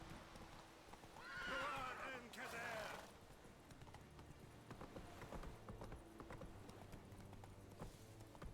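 In the Witcher 3 video game, a horse gives a loud neigh and whinny, then its hooves clip-clop at a moderate distance, with a voice speaking faintly in the background.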